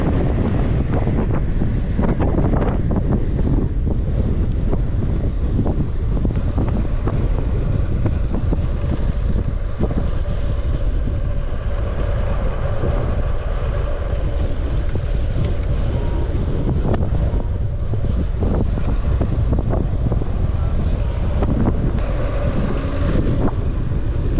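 Strong headwind buffets the microphone during a bicycle ride on Munnar Gap Road, a loud, constant roaring rush of wind noise with gusty low rumble throughout and no speech.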